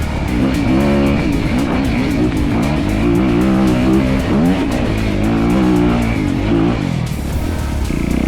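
A Honda CRF 250RX dirt bike rides fast, its engine held loud and close without a break, pitch rising and falling through revs and gear changes, with no voices over it.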